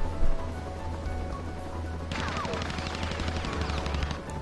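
Rapid gunfire from a Professor Layton video game scene, a dense burst of shots beginning partway through over a steady low game soundtrack, with faint voices in the background.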